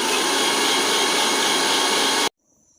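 A mixer grinder runs at full speed blending cucumber with a whole small lemon for juice, a loud steady whirring roar that cuts off abruptly into near silence.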